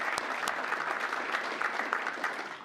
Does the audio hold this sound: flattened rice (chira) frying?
no